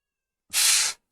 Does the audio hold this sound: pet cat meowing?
yes